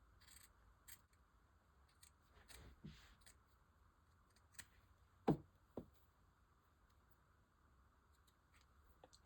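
Scissors make a few sparse, faint snips while trimming a mesh dome cap near its sewn tracks and lace edge, with one crisper, louder cut in the middle and quiet pauses between.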